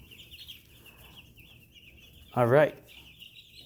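A flock of 82 chickens in a coop as a blizzard winds down, giving a brief burst of clucking over a steady high hiss, with a person speaking a couple of words nearby.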